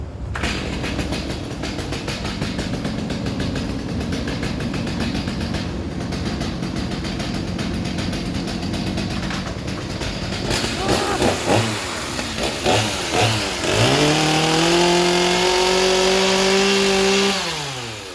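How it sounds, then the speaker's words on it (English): A loud reciprocating saw roars and buzzes steadily for a long stretch, its motor pitch shifting and stuttering as the blade bites into a 1000 oz silver bar. "So what we are going to cut it with, though, is a reciprocating saw."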